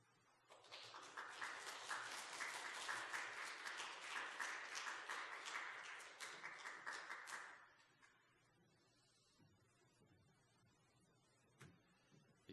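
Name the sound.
church congregation applause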